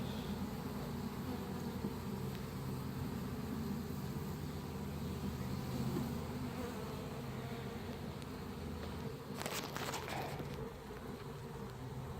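Honey bees buzz around a swarm hive outdoors in a continuous, close droning hum, with a short rustling disturbance near the end.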